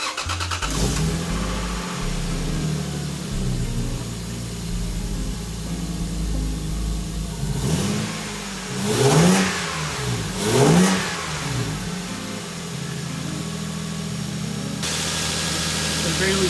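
Lexus IS300 with a 2JZ engine idling after start-up following a valve cover and spark plug job, with two sharp revs swelling and falling midway, close up, and a person talking over the running engine.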